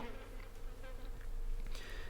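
Flies buzz in a steady, dense drone, close and fairly faint, a continuous insect whine that swells slightly toward the end with no other sounds.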